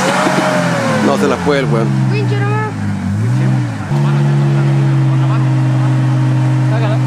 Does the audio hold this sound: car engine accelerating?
yes